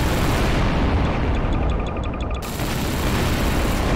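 A big explosion goes off during a video game fight with Siren Head, a loud, dense roar of blast noise with crackling debris that briefly thins and then surges back.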